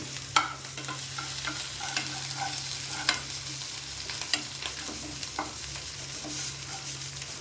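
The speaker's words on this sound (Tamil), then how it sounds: "இதில் வந்து தேங்காய், இதை வந்து கொஞ்சம் ப்ரௌனாக வறுத்துக்கணும்." Grated coconut roasting to brown in a pan with curry leaves, a soft continuous sizzle under repeated spoon-scraping and stirring taps, fairly quiet.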